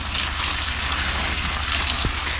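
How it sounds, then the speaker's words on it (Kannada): Steady water streams onto black pepper plants in a continuous, fairly loud rushing hiss with no pauses. "ನೋಡಿ ಈಗ ಇದಕ್ಕೆ ನೀರು ಬಿಡ್ತಾ ಇದ್ದೀವಿ."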